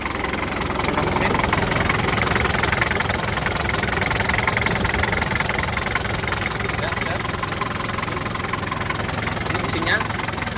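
A 1990 Daihatsu Taft engine idling steadily with the hood open, a continuous close rumble with some knocking and vibration, while people talk over it.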